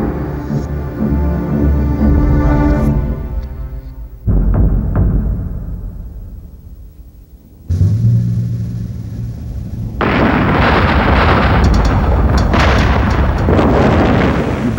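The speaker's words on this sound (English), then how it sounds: "The building explosion was probably the one of the best explosions I've got to work on." A controlled building demolition: heavy booming blasts roll out in stages, with deep rumbling between them, building to a loud, sustained crackling roar of debris near the end.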